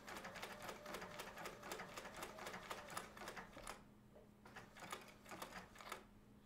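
A sewing machine stitches a blanket stitch along the edge of a leaf appliqué on a quilted table runner: a rapid, faint mechanical chatter that pauses briefly midway, then resumes, with no voices.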